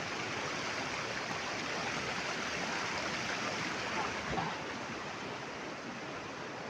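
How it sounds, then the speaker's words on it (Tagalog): A river flows past the bank as a steady, broad rushing wash, even and unbroken from start to end, moderately loud and without voices. "Nasa may tabing ilog kami kasi mga idol."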